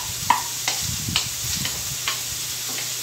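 Chopped onion and bell pepper frying in a pan for a chickpea curry give a soft, steady sizzle. Light scraping and tapping from stirring repeat every half second or so on top of it.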